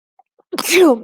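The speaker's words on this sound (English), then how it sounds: "I'm going to sneeze." A single human sneeze, a quick sharp inhale followed by a loud, close, explosive burst that fades out, heard alone in a quiet room.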